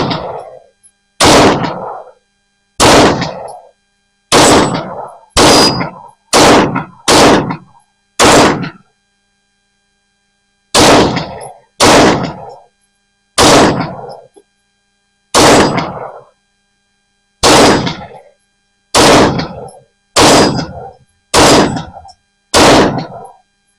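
Rifle shots fired one at a time at steel targets, about eighteen sharp loud cracks in uneven bursts with short pauses, each with a brief ringing tail and no talking.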